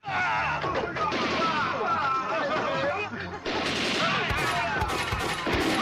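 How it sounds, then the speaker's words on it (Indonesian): Dense bursts of gunfire fill a gunfight scene from the 1988 Hong Kong action film Final Justice, with loud, continuous overlapping shots, crashes and impacts running throughout, and voices mixed into the chaos. "aksi baku tembak yang terjadi bukan antara polisi melawan perampok, melainkan dari pihak CEO tempat perjudian"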